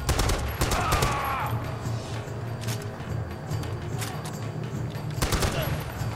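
Enemy gunfire in Far Cry 4's Valley of the Yetis, with sharp shots and bursts spread through the scene at moderate distance, mixed with game ambience and some talk.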